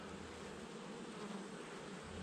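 Honeybees buzz steadily around an open hive during a colony inspection, a close, continuous insect drone that holds at an even level throughout with no talking.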